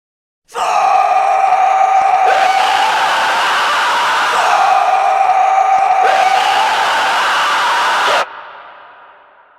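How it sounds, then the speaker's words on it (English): Harsh, loud vocal screams without backing instrumental, processed with vocal effects in GarageBand on iOS, sound in two long sustained bursts with a brief break between them, then cut off into a short echoing tail. "And this is what those screams sound like without the backing instrumental."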